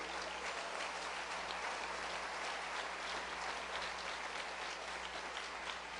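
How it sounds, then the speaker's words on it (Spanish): A church congregation claps during a worship service, a continuous dense wash of many hands heard throughout, steady and even, with no voices rising above it. "Dele palmas al Señor de la gloria"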